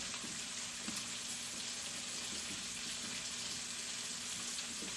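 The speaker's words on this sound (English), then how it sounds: "Lamb chops cooking." Lamb chops frying in a pan give a steady, dense sizzle with faint scattered pops, continuous and even throughout without any talking.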